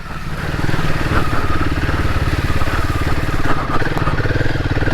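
A Royal Enfield Himalayan 450 motorcycle riding on a UK trail, its engine thumping loudly and steadily up close as it pulls through the gears, with no voices.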